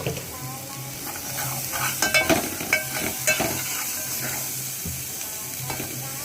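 Spices and salt frying in a pan while being stirred, with a steady close sizzle broken by clinks and scrapes of the spoon against the pan.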